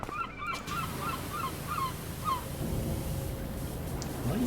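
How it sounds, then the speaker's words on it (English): Seagulls squawk in a run of short, bright calls over a constant low rumble and hiss of background noise in the PowerWash Simulator video game. "Noisy seagulls."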